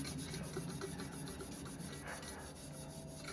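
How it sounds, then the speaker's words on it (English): Copper-bottom Revere Ware cookware scrubbed with cleaning paste, a continuous rhythmic rasping and rubbing, fairly quiet and close, with regular back-and-forth strokes throughout. "Just kind of scrub that in there."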